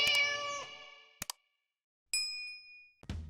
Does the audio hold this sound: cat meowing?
yes